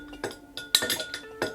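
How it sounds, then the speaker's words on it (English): An absinthe cocktail with lime juice is stirred in a glass, giving a few bright, close clinks and taps with short ringing tails. "give it a cursory stir here"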